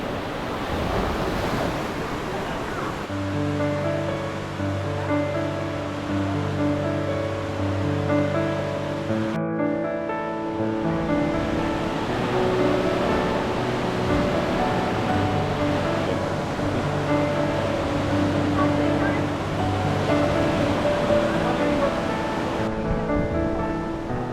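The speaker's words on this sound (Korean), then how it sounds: "바위 사이로 이렇게 해변이 형성되어 있어요" Waves wash continuously onto a narrow beach set between rocks at Uluwatu, Bali. The surf is steady and loud, with layered background music throughout.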